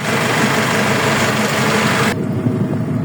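Racing boat engine fitted with a turbo, running loud and steady at close range with a dense, continuous roar that abruptly drops in its upper range near the end.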